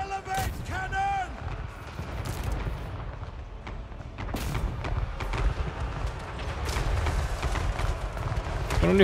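Heavy booming cannon blasts and explosive rumbles in Total War: Warhammer 3, with a voice talking over the chaotic barrage.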